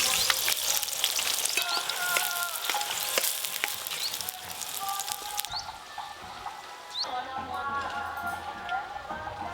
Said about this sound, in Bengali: বেরেস্তা ভেজে নেব